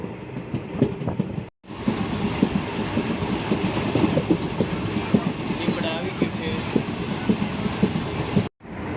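Moving passenger train on the Sihor to Lathi line during heavy rain, a continuous close rumble with rattling wheel clatter and rushing noise filling the carriage, broken by two brief gaps, with a voice talking over it.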